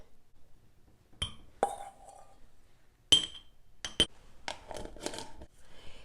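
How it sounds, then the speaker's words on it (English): A glass jar holding a homemade skincare grain scrub is handled and closed, with sharp isolated clinks and taps, a few scraping touches and quiet gaps between them. "I'm going to package it in a glass jar."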